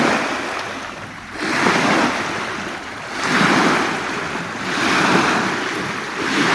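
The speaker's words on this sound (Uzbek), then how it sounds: "shu tezligidan suvlar keyin shunaqa to'lqinlanadi" Waves from passing boats surge and wash in three slow swells, rising and falling in a rolling rhythm, with wind noise buffeting the microphone.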